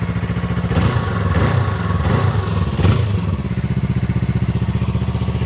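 A 2025 Yamaha R25 motorcycle with a new Euro 5 Plus engine idles with a deep, bassy exhaust pulse, blips the throttle in several quick revs, then drops back to a steady close idle.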